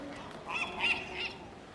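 A loud bird call in the game Dear Esther, three honking goose-like cries over about a second, close and prominent above a faint ambient background.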